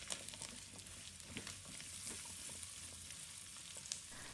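Squid strips stir-fried in lard in a wok, with a steady close sizzle and faint crackle and light scraping of a spatula throughout, no voices.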